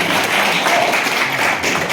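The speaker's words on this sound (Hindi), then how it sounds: "न्यू टिहरी प्रेस क्लब में जोरदार तालियों से स्वागत किया जाए" Loud, dense applause from a crowd welcoming the chief guest, former governor Bhagat Singh Koshyari, at the New Tehri Press Club, steady and close for the whole stretch.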